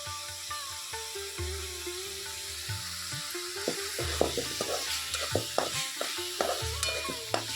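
Homemade whole-spice masala sautéing in a pan for paneer curry, a loud sizzle broken by repeated scraping stirs and clinks of a spoon against the pan, growing busier toward the end.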